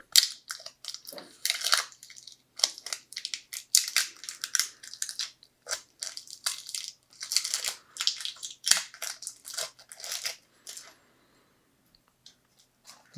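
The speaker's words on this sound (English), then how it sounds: "I'll remove the packing tape." Packing tape peeled away in repeated ripping, crackling bursts from a quick-action clamp repaired with epoxy, close and fairly loud for about eleven seconds before trailing into near silence.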